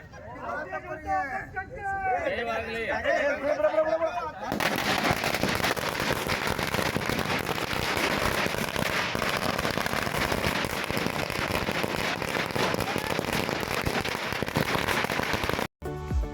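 Firecrackers burst in a dense, continuous crackling barrage at an election victory celebration outside a party office in Ilkal, loud and close, with a crowd babbling and voices shouting at the start.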